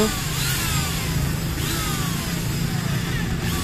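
A power drill with a 3 mm bit whines steadily and loudly throughout while boring holes for a casement window frame, its pitch rising and falling slightly as the bit bores in, with a faint voice underneath.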